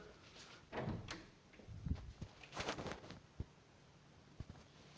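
A door in a video game opens by itself with faint creaks, knocks and thuds scattered over a quiet background.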